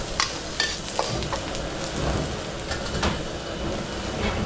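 Onions sautéing in hot oil with garlic, a steady broadband sizzle close by with occasional sharper crackles and stirring clatters throughout, no voices.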